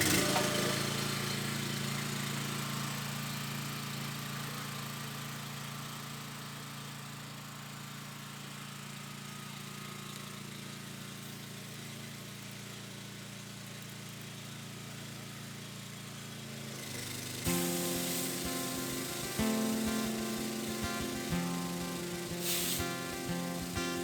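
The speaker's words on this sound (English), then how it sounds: "I just pre-treated and I'm going to spray it now and wash it." A pressure washer sprays down the walls of a house in Donegal, a steady loud hiss with engine drone that shifts in tone partway through as the spray moves across the surface.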